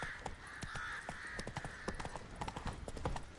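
Hooves of Roach, the horse in The Witcher 3, clatter in a quick galloping rhythm of sharp repeated thuds, fairly close, with a faint tonal hum of game ambience beneath.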